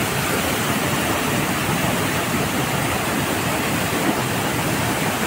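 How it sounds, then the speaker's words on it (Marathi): Nalkund waterfall near Buldhana thunders with a heavy flow after days of rain, a loud, unbroken roar of falling water heard up close without any voices. "धबधब्यामध्ये खूप पाणी वाहत आहे"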